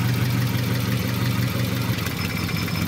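A car engine idles steadily after a spark plug replacement, a continuous low, even rumble with faint vibration, close up and loud, with no talking.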